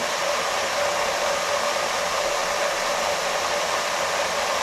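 A micro hydro Turgo runner spins with a steady, loud, continuous whirring rush of water and rotation that holds without change. No one speaks.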